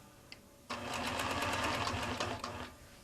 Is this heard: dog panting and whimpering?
no